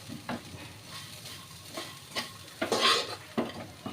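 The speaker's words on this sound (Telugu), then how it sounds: "ఇప్పుడు ఇందులో వేసుకున్న తర్వాత ఒకసారి వీటిని బాగా కలుపుకోవాలి" Crispy corn kernels being stirred in a pan, with soft scraping and light clinks of a spoon against metal over a faint sizzle, in irregular close strokes with no talking.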